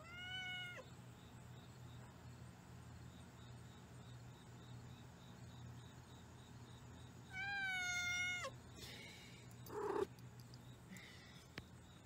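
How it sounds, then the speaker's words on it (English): A house cat meows at a door to be let out, a drawn-out meow at the start, then a louder pair of meows later, with a faint purr beneath and quiet room noise between calls. "My grandmother's cat demands for me to open up the door so she can look out the screen."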